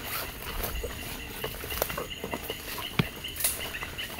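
Heavy rain during the rainy season pattering steadily outdoors near a fishing spot, a dense continuous patter with scattered sharper drips and taps, no talking.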